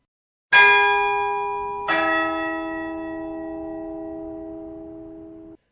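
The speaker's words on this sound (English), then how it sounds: "the hour bell sounded, which it now did with a deep, dull, hollow, melancholy" Church bell tolling the hour, two deep, hollow strikes about a second and a half apart, each ringing out loud and near with a long, slowly fading hum.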